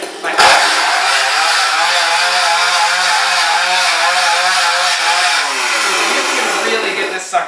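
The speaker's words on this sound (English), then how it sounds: "awesome ripping chainsaw effect" A Fright Saw electric chainsaw prop lets out a loud, sustained ripping chainsaw roar close up, droning steadily for about seven seconds before cutting off.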